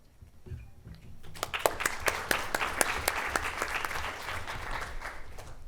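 An audience at a research showcase panel breaks into applause that swells quickly from scattered claps into sustained, dense clapping filling the room.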